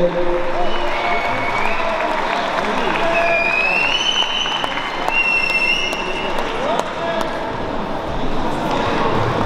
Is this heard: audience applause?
yes